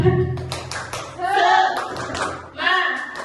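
A classroom of children does a rhythmic spirit clap as an icebreaker before a lesson, sharp claps in patterned bursts mixed with a teacher's and kids' voices chanting along close by.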